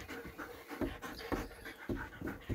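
Dogs pant inside a warm camper van, a quick rhythmic series of close, breathy huffs repeating steadily.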